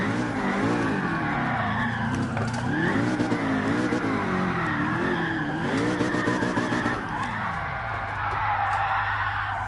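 Car engine and tires in the racing game Gran Turismo Sport: a loud, continuous engine drone rising and falling with throttle, mixed with sustained tire squeal and skidding, easing off near the end.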